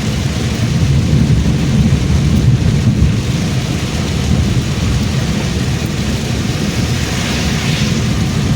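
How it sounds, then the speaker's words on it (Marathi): Heavy unseasonal April–May rain pours in a dense, loud, continuous roar with deep low rumbling running under it throughout, no distinct thunderclap standing out. "हा अवकाळी पाऊस आहे"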